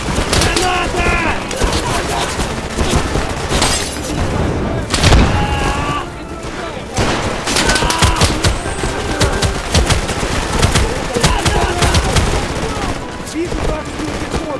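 Grenade blasts and gunfire from the WWII shooter Easy Red 2, in a Stalingrad railway station square battle: continuous loud rifle and machine-gun fusillades with heavy booming explosions, dense and close throughout.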